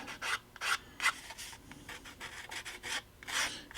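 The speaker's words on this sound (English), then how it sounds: "take my small file and make sure that the edges are nice and smooth" A small file rasps along the edges of a freshly cut model railroad building base in short, light, uneven strokes, close and quiet with no talk.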